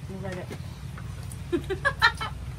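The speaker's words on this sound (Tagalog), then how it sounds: "manok yan" A few short clucks from a chicken, close by, during a typhoon, over a steady low rumble and faint background murmur.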